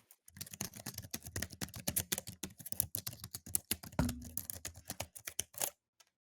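Rapid typing on a computer keyboard during a podcast, a dense, steady stream of crisp key clicks with occasional heavier strokes, close and clear with no talking.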